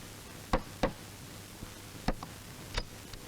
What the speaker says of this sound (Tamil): ஆட நீங்க வேற கதவை யாரோ தட்டுறாங்க.